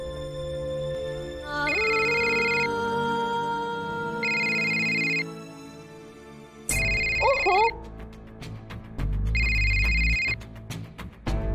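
A phone ringtone sounds repeatedly in regular electronic bursts. It plays over a steady background hum, which gets busier partway through.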